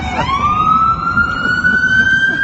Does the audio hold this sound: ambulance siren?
yes